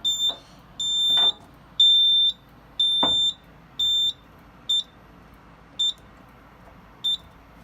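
Smoke alarm tied to a fire alarm panel sounding a series of loud, piercing high beeps, eight in all, starting long and growing shorter, with faint clicks and thumps between them.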